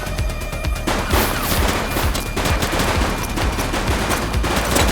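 Dense gunfire fills a police shootout in the video game The Precinct, with continuous rattling bursts and booms, loud and close, with no talk.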